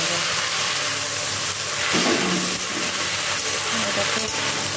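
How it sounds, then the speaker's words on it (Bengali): Whole spices crackle and sizzle in hot oil during a tempering step, a dense steady hiss that holds for the whole stretch, close and fairly loud, with no voices. "ফোড়ন দিয়ে দিলাম"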